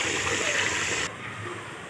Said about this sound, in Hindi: गाइस यहाँ पे रंग मिला के पानी तैयार हो रहा है।